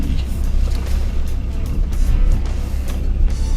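A Ford Ranger or Mazda BT-50 dual-cab ute crawls off-road through ruts, its engine giving a loud, steady, low rumble close by, with occasional bumps and knocks from the ground.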